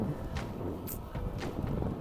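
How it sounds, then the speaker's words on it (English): Steady, loud wind buffets the microphone of a cyclist riding a road course in Hamburg, a rough continuous roar with occasional gusty swells and faint rustling. "Right now it's actually pretty windy."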